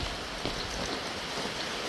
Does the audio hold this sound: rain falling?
yes